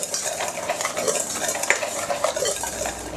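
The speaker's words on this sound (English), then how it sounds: "So we'll just take this, whisk it together, get that nicely mixed." Liquid base ingredients for a roast beef Ollie burger are whisked together in a bowl, a rapid, close, rhythmic clatter and swish of metal against the bowl.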